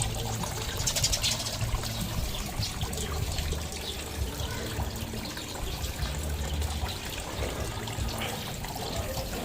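Water flows steadily at a tilapia fish pond on a farm, a continuous, fairly loud trickling and splashing rush with no pauses and no voices.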